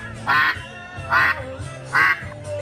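Three loud, nasal quacks from a person in a duck mascot costume imitating a duck, evenly spaced at a charity duck race event, clear and close with no talk in between.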